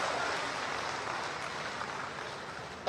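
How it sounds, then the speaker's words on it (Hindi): Steady crowd applause for an IIFA award winner at a public event in Gorakhpur, a dense, sustained clapping wash that holds evenly for a few seconds with no voices over it. "एक जोरदार ताली बजा दीजिए"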